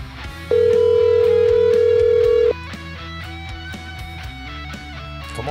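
A single loud, steady electronic telephone tone sounds for about two seconds over background music with rhythmic guitar and percussion.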